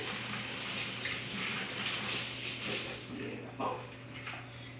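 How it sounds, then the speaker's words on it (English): A kitchen knife used on raw salmon is rinsed under a running sink tap, giving a steady hiss of flowing water with some clinks and splashes near the end. "Let me wash my knife real quick that we used to cut the salmon."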